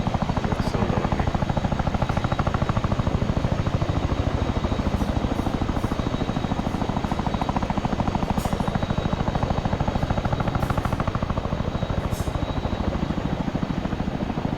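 A CH-47 Chinook helicopter idles steadily in Arma 3, its twin-rotor engine drone a constant close, loud whine with a fast rhythmic rotor chop that persists throughout without letup.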